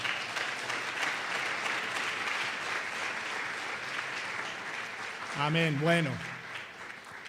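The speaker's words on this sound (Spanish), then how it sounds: "Damos un aplauso al Señor" Congregation applause at a church conference devotional, a steady broad wash of clapping spread through the room, with a brief spoken word from the preacher near the end.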